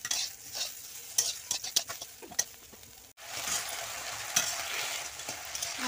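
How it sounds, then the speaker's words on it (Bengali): Bitter gourd slices frying in oil in a pan, with poppy seeds sprinkled over, give a steady close sizzle broken by sharp scraping stirs and brief clinks, loudest in a hiss near the end. "আমার উচ্ছেটা ভাজা হয়ে গিয়েছে"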